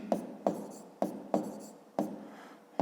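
A pen scratches on paper while writing out the answer to a fifth-grade multiplication exercise, about six quick strokes in a steady rhythm, close and quiet with no talk.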